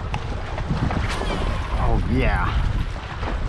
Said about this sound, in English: Super windy today, guys. Oh, it is blowing.